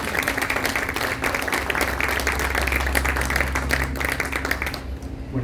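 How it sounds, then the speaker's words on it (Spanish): Audience applause welcoming a speaker at a book presentation, a dense, even patter of clapping from a crowd lasting about five seconds before cutting off. "Lo recibimos con un fuerte aplauso."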